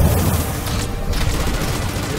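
Gunfire from ground troops in the Halo Wars 2 campaign, a dense burst of overlapping shots and booms, loud and continuous with no pause.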